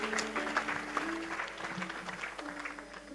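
A church congregation at a thanksgiving service applauds for Jesus Christ, with steady, dense clapping that stays moderately loud throughout, along with faint crowd murmur and occasional voices.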